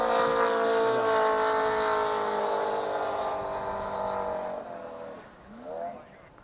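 Radio control model aircraft motor running at a meet at Old Rhinebeck Aerodrome, a steady loud harmonic drone that slowly falls in pitch, then fades with a brief rising whine near the end.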